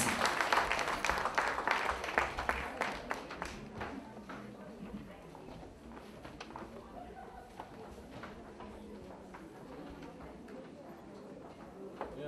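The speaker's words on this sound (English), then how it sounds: "So give them a round of applause with loud," Audience applause for local judges at a DSK pre-finals event, dense clapping loudest in the first few seconds and then thinning into scattered claps under crowd noise and talk.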